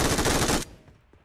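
A dense, loud burst of MG3 machine gun fire in the game PUBG Mobile rattles continuously for about half a second, then cuts off abruptly and leaves a faint decaying tail.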